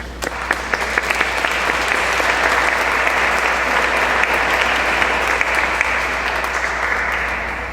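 A congregation applauds a visiting choir at an evening Catholic Mass in a large reverberant church. The loud, sustained clapping swells quickly and holds strong before easing slightly at the end.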